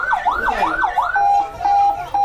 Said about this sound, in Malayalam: ഇത് തിരക്കുള്ള റോഡുകളിൽ രോഗിയെ എത്രയും പെട്ടെന്ന് കൊണ്ടുപോകുന്നതിന് വേണ്ടിയിട്ട് ഉപയോഗിക്കുന്ന സൈറനാണ്